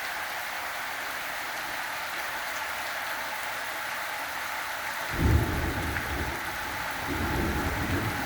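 Heavy rain hisses steadily on surfaces, then a deep rumble of thunder rolls in about halfway through and lingers, swelling again near the end over the constant downpour.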